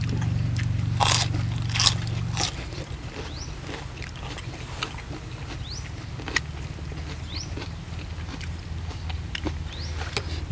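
Crisp crunching bites of spicy chicken-feet salad repeat close up in an irregular rhythm, with a low steady hum underneath and no talking.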